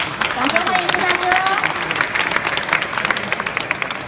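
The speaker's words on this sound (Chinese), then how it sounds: "掌声欢迎孙大哥" Audience applause welcoming a guest of honour at the Gunpla Builders World Cup 2015 Taiwan award ceremony, a dense, steady wash of clapping from a large crowd that holds at full strength throughout, with a faint voice underneath.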